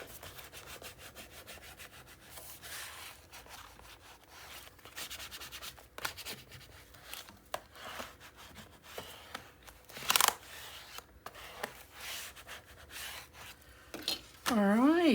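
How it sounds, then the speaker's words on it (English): Paper being burnished in a Stamperia Fortune mini album, giving a quiet, steady rubbing and scraping texture that runs throughout, with a few louder scuffs and a short squeaky stroke near the end. "we're going to burnish"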